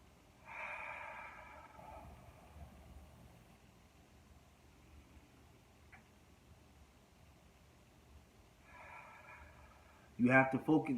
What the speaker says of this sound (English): those are the type breaths you have to take to relax yourself